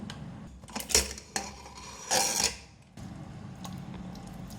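A pressure cooker of cooked dal is opened in a home kitchen, giving a few loud metallic clanks and scrapes of the lid against the pot. Short bursts are followed by quiet hiss and background hum, with no talking.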